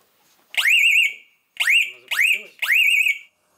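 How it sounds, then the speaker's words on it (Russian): Three to four piercing electronic whoops from a fire alarm in an entertainment complex during an inspection, rising sweeps repeating in short bursts with brief gaps between them, loud and close. "Пронзительный звук пожарной сигнализации как свидетельство того, что оборудование работает исправно."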